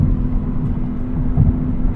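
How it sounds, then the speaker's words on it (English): A steady, low Lexus IS500 V8 engine drone hums continuously while driving, deep and smooth with no voices. "This engine just sounds so good."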